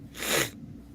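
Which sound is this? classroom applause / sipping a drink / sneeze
sneeze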